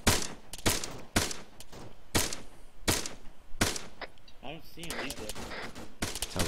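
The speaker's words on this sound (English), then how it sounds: "Sounds like I have shots from our southwest, southeast. Might be friendly actually. Sounds like 249." An M249 machine gun fires during Marine platoon field training, with about eight sharp, loud bursts at irregular intervals and a voice speaking briefly between them.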